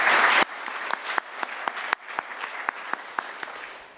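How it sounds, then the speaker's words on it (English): Audience at a cultural diplomacy conference applauds panelists, a dense burst of clapping that quickly thins to scattered, individual claps continuing steadily to the end. "Give them a round of applause."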